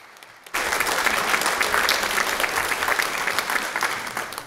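Applause from a church congregation breaks out abruptly after a brief quiet moment, then carries on as a full, even burst of clapping that slowly thins toward the end.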